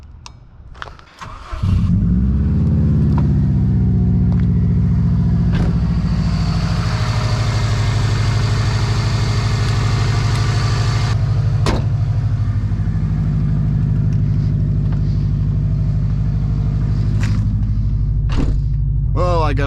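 Loud Subaru WRX engine fires up and settles into a heavy, steady rumbling idle that carries on throughout, close and dominant, with a few sharp clicks and knocks over the top; speech is faint or absent.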